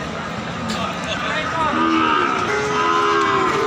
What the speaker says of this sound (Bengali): হাই কোয়ালিটি সম্পূর্ণ একেবারে শাহিওয়াল জাতের গরু।